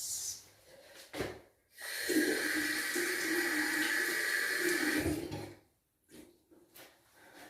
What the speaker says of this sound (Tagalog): Then I need to wash my face.